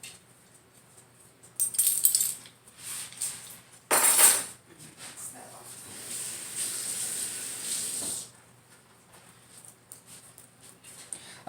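Metal measuring spoons jangle and clink as they are worked off a key-style ring, with bright, close metallic rattles in short bursts, the loudest around the middle, followed by softer handling noise.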